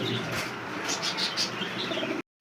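American Lakha pigeons, a male and a female, cooing softly and close by, with soft chirpy calls and faint rustling before the sound cuts out near the end.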